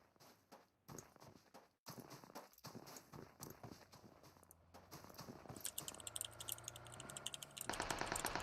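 Fast clicking keystrokes on a computer keyboard while typing into a Discord chat, irregular bursts of taps that grow denser and louder toward the end, with game sounds underneath.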